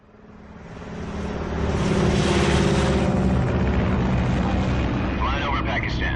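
A military aircraft flies at altitude, a steady loud engine drone rising in over the first two seconds and holding, with a voice speaking over it, in the Call of Duty: Black Ops 6 video game.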